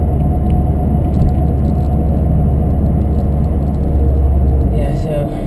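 Steady engine rumble and road noise from a Subaru WRX cruising across town, a continuous close hum with tire drone and no break in the sound.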